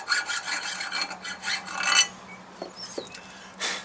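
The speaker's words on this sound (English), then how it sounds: "a round file has to be perfectly straight inside the hole" A round file rasps inside a hole on a semi trailer part near the S-cam, making a quick series of close, scratchy metal strokes followed by a few light clinks.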